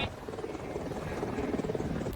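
Combat helicopter of the Indian Air Force: a steady, dense rotor and engine roar that runs continuously and fairly loud throughout, with no talking.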